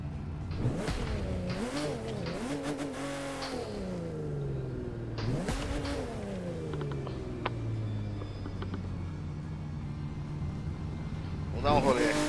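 A Porsche in the racing game The Crew 2 revs its engine in rising and falling sweeps, several throttle blips up front, then a long drawn-out rev that winds down, loud and close.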